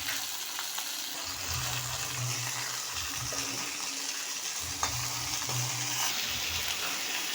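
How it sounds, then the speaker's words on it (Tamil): Carrot, tomato and shallots sauté in a pan with a steady, close sizzle and occasional stirring scrapes throughout, no voices. "இதில் எல்லாத்தையும் போட்டு வதக்குவோம்."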